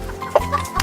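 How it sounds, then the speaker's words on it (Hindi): Hens cluck in short, brief bursts close by, with a faint background hum around them. "उसके पास बहुत सारी मुर्गियां थीं।"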